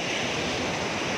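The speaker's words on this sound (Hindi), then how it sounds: "इतनी मस्त लहर भी आ रही है," Sea waves washing onto a beach shore, a loud, steady broadband rush of surf and spray filling the whole short stretch, with no voices over it.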